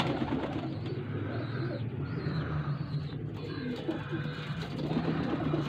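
Teddy Patti pigeons coo softly and continuously up close, with low rolling calls layered over a faint background murmur.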